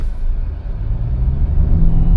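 A Hyundai Venue diesel engine idles at a stop, heard from inside the cabin as a steady low rumble with faint clatter that holds even and close for the whole stretch, with no talk over it.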